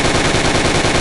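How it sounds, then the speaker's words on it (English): Rapid full-auto bursts from a Thompson 1928 A1 submachine gun in a VR shooter, a loud, steady stream of evenly spaced shots with no pauses across the whole second. "you can just call it the Tommy gun or the Thompson machine gun because that's exactly what it is"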